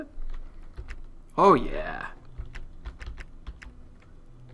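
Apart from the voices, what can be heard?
typing on a computer keyboard in the Nancy Drew video game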